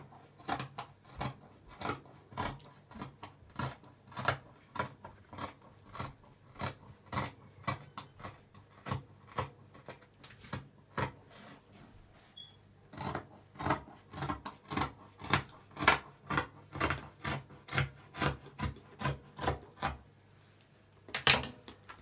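Fabric being cut for an Iro and Buba sewing project, a long run of sharp, rhythmic scissor snips that quicken and grow louder toward the end, close by with no talk.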